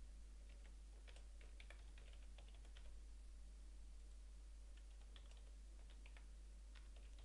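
Typing on a computer keyboard to enter a name, a quiet run of light, irregular key clicks over a steady low hum.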